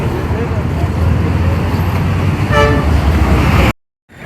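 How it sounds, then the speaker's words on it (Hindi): Car horns toot amid a heavy traffic jam at a busy Sunday car market in Taxila, with a constant roar of traffic and engines and a brief horn blast rising over the din before an abrupt cut to silence. "बहुत रश है, जहाँ पे ट्रैफिक जाम हुई भी है।"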